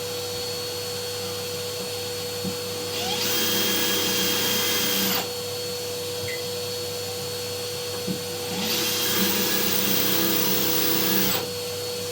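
A drill boring a hole through bathroom wall tile near its edge, the tip kept wet, in two sustained bursts of steady whine separated by a pause, close and fairly loud over a constant background hum.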